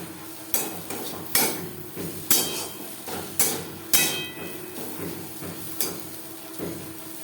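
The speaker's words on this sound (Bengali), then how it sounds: "নারকেলের সাথে দু তিন মিনিট নাড়াচাড়া করে নেব এই সময় আমি গ্যাসের ফ্লেমটাকে লোতে রেখে দিই" Drumstick leaves and coconut cook in a pan over a low gas flame, with a spatula striking and scraping the pan in a series of sharp knocks amid a soft frying sizzle, heard close and without talk.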